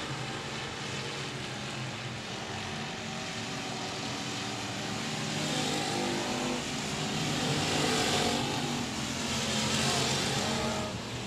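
Race cars roar around a dirt speedway at Texarkana 67 Speedway, a steady loud engine drone from the pack that swells as cars pass closer, with no talk over it.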